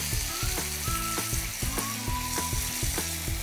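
Tomato pieces sizzle steadily in a hot pan for tomato onion chutney, a dense continuous frying crackle with occasional stirring knocks, close and fairly loud with no voices.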